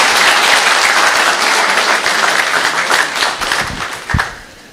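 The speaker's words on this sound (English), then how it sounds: "let us greet him with a warm round of applause, Mr. David Lim." An indoor audience applauds a speaker being welcomed on stage, a dense, steady burst of clapping that thins out and fades over a few seconds.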